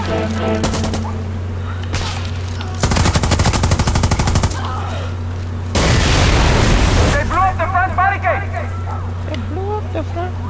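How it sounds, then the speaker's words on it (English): Bursts of rapid automatic gunfire in the shooter game Far Cry 6, two loud sustained volleys separated by quieter stretches with a steady engine hum underneath, while excited voices talk and shout over the action. "Someone's shooting!"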